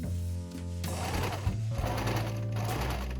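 A sewing machine stitches darts and seams on fabric for a DIY qipao, running steadily with a whirring, rhythmic hum that stays close and even throughout.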